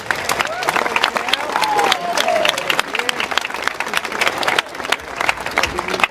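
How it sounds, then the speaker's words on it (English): Students and families at a senior school closing ceremony break into lively applause, with crisp individual claps distinct within the crowd and some cheering mixed in, continuing loud and uneven for about six seconds. "can we get a little round of applause for all the lifers?"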